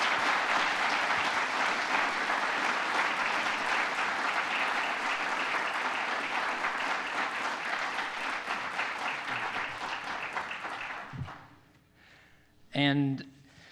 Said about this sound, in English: But another round of applause for our speakers